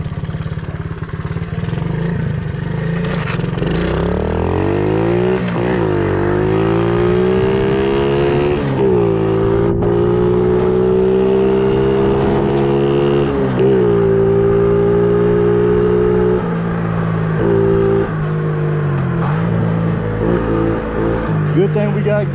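A small, rehabbed pit bike with faulty brakes revs and shifts through gears while ridden down a back alley, its buzzy engine climbing and dropping in pitch, loud and close, with talk over it.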